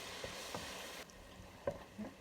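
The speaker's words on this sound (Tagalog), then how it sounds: "Gisa-gisa lang yung bawang. Hanggang sa mag-brown konti." Garlic sautéing in a pan for a seafood boil, a soft steady sizzle with a few light stirring clicks and taps, quiet and close, no voices.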